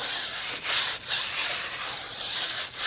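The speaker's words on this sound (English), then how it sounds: "I'll just use this brush and just scrub around just like that" A brush scrubbing a car tire and wheel rim during cleaning, with a steady, close, harsh rubbing hiss broken by brief pauses as the strokes change direction.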